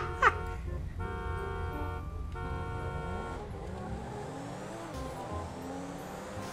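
Cars tearing along in a GTA RP street race, with a sharp horn toot at the start and then steady, loud, layered engine drones whose pitch slides up and down as vehicles rev and pass; no talking.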